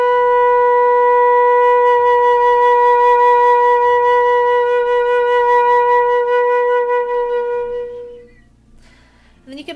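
A flute holds one long, steady, clear B for about eight seconds, then it stops and a soft breath and rustle follow.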